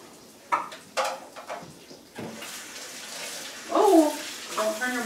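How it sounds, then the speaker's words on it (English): Tap water runs and splashes in a sink while rice is rinsed, with intermittent gushes and soft knocks and a voice chattering over it nearby. "don't turn your water on high because you lose all your rice"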